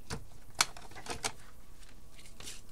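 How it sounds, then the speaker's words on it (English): Scissors cutting cardstock from a marked point to the corner for a cascading stretch card, heard as a few sharp crisp snips close by in a quiet room. "you're just going to cut from that mark all the way to the corner"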